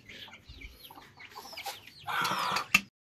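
Two roosters clucking softly and pecking at food nearby, a few scattered clucks followed by a louder burst of squawking near the end.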